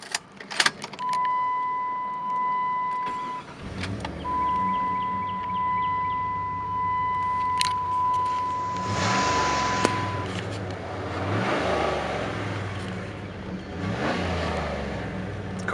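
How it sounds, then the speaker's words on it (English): A 1998 Jeep Grand Cherokee 5.9 Limited 4x4 starting up after a steady chime and key sounds, its engine catching then rising and falling through several revs as it pulls away and drives, heard from inside the cabin. "So let's go for a quick test drive of the car."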